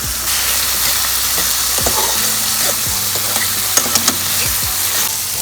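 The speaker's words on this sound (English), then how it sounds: "once it's sauteed down a little bit, I usually like to just throw in the carrots" Carrots sauté in a hot pan for Jamaican-style bok choy, a steady loud sizzle and hiss with occasional stirring scrapes and a few light clinks.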